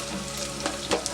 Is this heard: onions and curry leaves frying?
yes